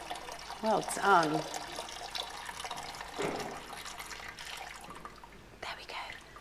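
Water is poured into a church baptism font during a family service, giving a short splash and trickle near the start, faint and close, with soft voices and murmurs around it.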